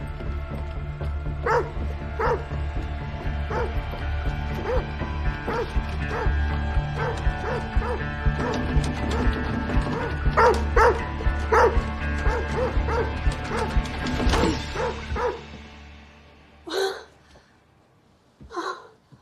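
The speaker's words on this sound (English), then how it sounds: "I knocked, but George was already barking." A dog barks loudly and repeatedly at close range, mixing deep woofs with sharp yips and whimpers in an uneven burst that fades near the end, followed by a few gasps.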